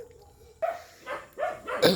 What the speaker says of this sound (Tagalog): Yan yung aso ko, si Sword.